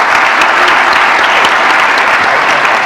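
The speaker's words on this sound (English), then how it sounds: "Can we give them a round of applause?" An audience at a civic discussion event on Portland housing construction claps loudly and continuously, a dense wash of applause throughout with no talk over it.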